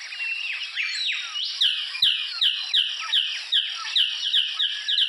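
A male magnificent bird of paradise in low forest bushes gives a rapid series of loud, sharp chirping calls, repeated in quick rhythmic bursts over a faint high background hum.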